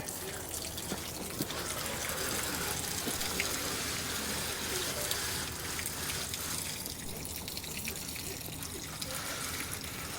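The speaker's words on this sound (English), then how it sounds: "Let the water drain out." Water gushes steadily out of the drain of a steel hot water tank in an RV, a constant loud rushing splash that continues throughout without pause.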